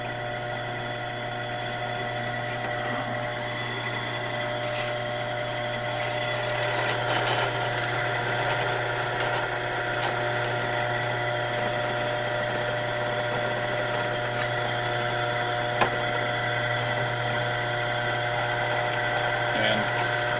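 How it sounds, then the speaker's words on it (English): A power drill whines steadily for a long stretch, a constant motor drone with slight changes in pitch as the bit works through wood. "we're drilling it like this."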